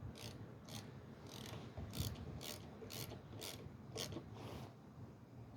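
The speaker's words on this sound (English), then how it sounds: "I'm using my Stanley socket." A Stanley ratchet socket wrench with a worn retaining ball clicks in a steady run of about ten sharp ratcheting strokes, close up while a screw on a Honda lawn mower carburetor is worked, with low background hum and no talking.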